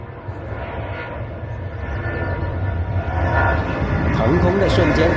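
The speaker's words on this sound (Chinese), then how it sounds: "在跑道的另一端有天津航空的空客332起飞。" A Tianjin Airlines Airbus A330-200 takes off from the far end of a runway at Guangzhou Huadu, a broad, distant jet roar that builds steadily louder throughout.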